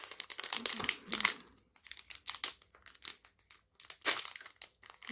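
Foil wrapping of a Drakerion TCG booster pack crinkled and torn open by hand, close and fairly loud, in several bursts of crackling with short pauses between.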